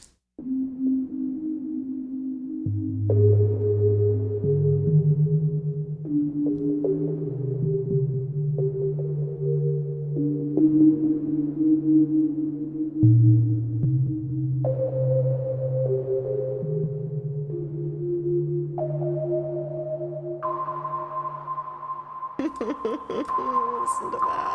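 A Korg MS-2000b virtual analog synthesizer plays a slow sequence of sustained, gliding tones that shift in pitch over about twenty-five seconds. The sound is smooth and continuous, and a brighter, buzzier burst comes at the end.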